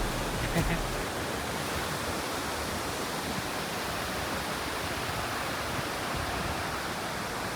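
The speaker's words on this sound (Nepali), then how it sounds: "खोलाको आवाज नै मिठो सुनिने रहेछ है" Steady broadband rush of flowing water, like a stream nearby, continuous and fairly loud with no breaks.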